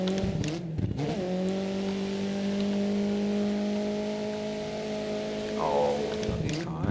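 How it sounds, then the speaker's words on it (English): A Renault car engine in a racing game mod drones loudly and steadily, rising through revs and holding a high sustained note before dropping and revving again, with no talk over it. "All of these cars have pretty interesting engine effects. A little bit clicky"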